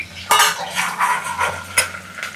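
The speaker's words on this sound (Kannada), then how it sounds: "ಕರಿಬೇವು ಹಾಕಿದ ತಕ್ಷಣ ಸಿಡಿಯುತ್ತೆ" Curry leaves crackling and spitting in hot oil in a home kitchen while making a Dakshina Kannada savoury dish, heard as close, loud sizzling bursts with clinks of a metal utensil against the pan.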